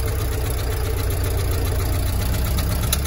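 The engine of a 1925 Ford station wagon runs at a steady low throb, loud and continuous, with an even mechanical rumble and no talking.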